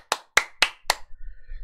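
Four sharp, evenly spaced hand claps ring out close and loud, followed by a low murmur.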